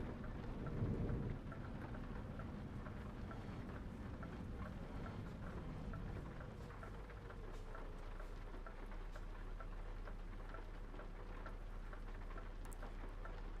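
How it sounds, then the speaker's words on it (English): Steady rain with rumbling thunder in the Euro Truck Simulator driving game, a continuous wash of falling drops holding at an even level with deep rolls underneath and no talking. "Interestingly, rainy here, despite the nearly blue, mostly blue sky."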